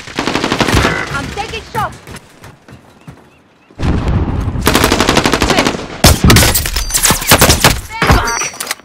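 Video game gunfire, loud rapid automatic bursts and single shots up close, breaking off for a quiet gap before resuming in dense volleys, with shouted voices mixed in.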